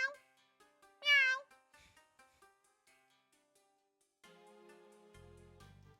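A single clear cat meow rises and falls in the Ace Attorney Investigations 2 video game, set among soft chiming tones, with a low musical drone entering near the end.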